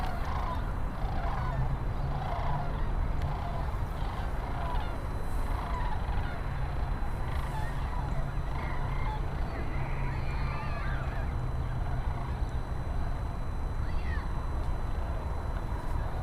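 Geese honk high overhead as flock after flock passes, the calls faint and distant over a steady outdoor rumble, with a voice talking now and then.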